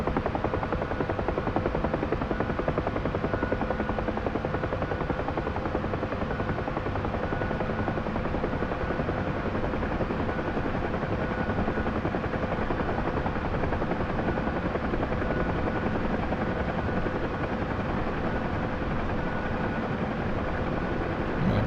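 UH-1 Huey helicopter in the DCS flight simulator, a continuous steady rotor drone with turbine whine heard up close from the cockpit throughout, with no talking.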